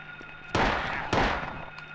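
Gunfire in the video game Silent Hill on a garage pathway: two loud, close blasts about half a second apart, each with a broad noisy burst that decays slowly over a low background hum.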